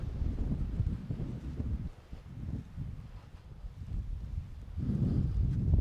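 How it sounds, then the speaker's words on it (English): Strong wind buffets a misty hilltop near an old hill fort, a low, rumbling roar against the microphone that gusts and eases, with no voices. "It's very windy."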